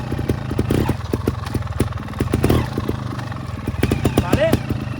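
An off-road motorcycle on rocky ground revs hard as the clutch is let out, with a steady pulsing engine throb, rising and falling throttle and clattering knocks from the rocks. Someone talks over the engine.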